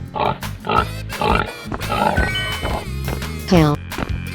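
Pig grunts and squeals sound from a 3D animal sliding video game, short voiced bursts over busy game music, with a rising squeal near the end.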